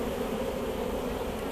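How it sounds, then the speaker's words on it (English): Honey bees buzz densely as they fly back to a hive box set up as a queen-rearing cell builder, a continuous close drone with no voices. "all the flying bees that leave the mother colony, shall we say, they're going to just return to this location"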